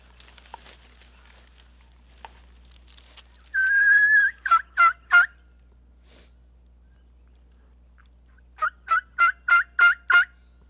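A wild turkey gobbler gobbles twice in a quiet outdoor setting during a hunt: a clear, moderately distant rattling burst of rapid pulses, then a pause and a longer second run of gobbling notes near the end.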